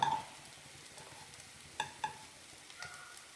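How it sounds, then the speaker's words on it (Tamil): Bread pieces frying in a pan over a medium flame for a Tamil bread sweet, giving a faint steady sizzle with a few soft clinks of stirring, heard alone. "ப்ரெட்டு நல்லா கொஞ்சம் ஒரு பொன்னிறமாக ஆகிற வரைக்கும் அடுப்பை மீடியம் ஃப்ளேமில் நம்ம வச்சுக்கலாம்."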